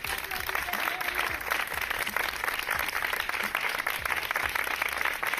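A crowd of people applauds steadily for professionals on duty, a continuous dense clatter of many hands from nearby and afar, with a faint voice now and then beneath it.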